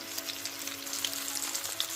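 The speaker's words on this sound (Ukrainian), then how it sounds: "Ось так смажимо в олії на розігрітій сковороді" Steady crackling sizzle of zucchini frying in hot oil in a pan, close and even, with a faint hum underneath and no talking.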